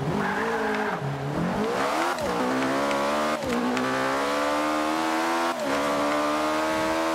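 An Ariel Atom V8 race car engine in Forza Motorsport 5 revs and roars continuously, its pitch rising and dipping sharply as the car shifts and accelerates.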